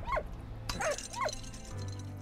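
Dog barking in the World War I video game Valiant Hearts: The Great War, three distinct barks and yips spaced about half a second apart over a steady low game-music hum.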